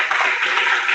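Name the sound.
church congregation applause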